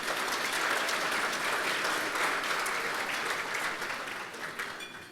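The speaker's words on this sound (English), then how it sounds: "Give them a round of applause" A crowd at a State of the City address applauds elected officials, public servants and community leaders, a loud, sustained wash of clapping that holds steady and eases slightly toward the end.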